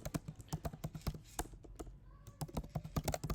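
Rapid irregular keystrokes on a computer keyboard while coding a Firebase example, a steady run of close, crisp taps with brief pauses and no talking.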